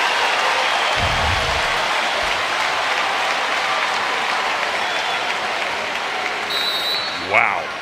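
A volleyball arena crowd roars and applauds in a women's college match, Wisconsin against UCLA, a steady loud wash of clapping and cheering that holds throughout and fades slightly near the end, with a commentator's voice briefly audible.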